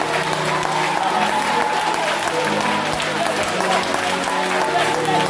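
A worship congregation applauds and acclaims God, loud dense clapping and cheering filling the space continuously with voices mixed in throughout.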